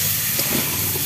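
Young jackfruit and prawns fry in a pan, giving off a steady, close sizzling hiss that holds evenly throughout without pause.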